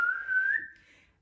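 One person whistles a single sustained, slightly rising note for about half a second, then lets it fade away quietly, close and alone.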